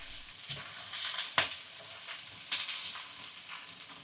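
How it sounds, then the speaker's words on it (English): Bok choy stems sautéing in a hot pan for a crispy stir fry: a steady, close sizzle with frying crackle, broken by a few sharp stirring clatters, and no voices. "add the bok choy stems. They take a bit longer to cook, so let them saute until they're slightly translucent"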